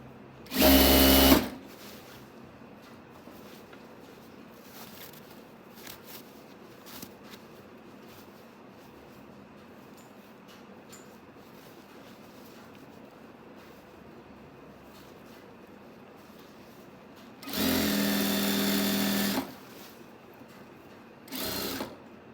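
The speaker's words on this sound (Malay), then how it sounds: "Okey, jahit sampai habis." Sewing machine stitching fabric for a telekung prayer garment, in two loud bursts, one short at the start and a longer run near the end, with a brief third burst at the close and quiet pauses between.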